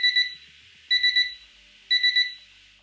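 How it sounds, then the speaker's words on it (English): A digital kitchen timer's built-in alarm rings in three evenly spaced bursts of rapid high electronic beeps, loud and close, with nothing else around it. "it also has a built-in alarm that is fairly loud, up to 90 decibels, so will alert you when the timer runs out"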